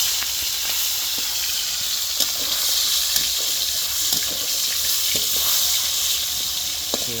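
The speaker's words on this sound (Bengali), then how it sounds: "এই যে তেলের মধ্যে দিয়ে ভাজা নিতে হবে।" Pieces of chicken coated in salt and turmeric frying in hot soybean oil, a steady close sizzle and hiss with small crackles, continuous throughout.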